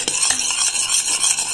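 A caramel and milk mixture is stirred in a pan over lowered heat, giving a soft scraping and a light bubbling sizzle close by, with a few faint utensil clinks and no talking.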